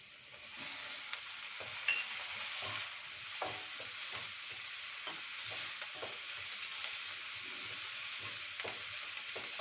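Green peas sizzling in hot oil in a pan for a potato vegetable masala sandwich, a steady bright hiss with repeated scraping stirs, close and fairly quiet.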